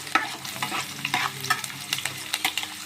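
A ladle stirs curry leaves frying in oil for a village-style fish curry: a close, steady sizzle broken by rhythmic back-and-forth scraping strokes and clinks, with no one speaking.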